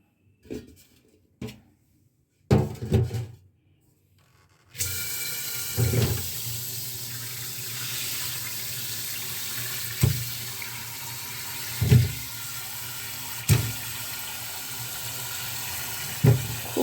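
Tap water runs steadily while tomatoes are washed in a kitchen sink, preceded by a few short splashes and followed by a continuous stream with periodic louder knocks and splashes as the fruit is handled.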